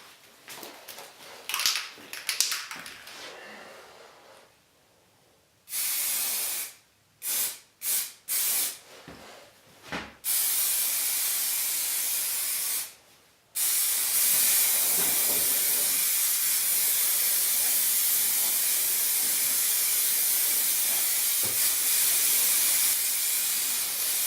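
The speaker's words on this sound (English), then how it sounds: "So I'm just going to spray this with spray cans." An aerosol spray can of primer hisses in short bursts, then in longer continuous sprays, close and loud, coating plastic interior trim.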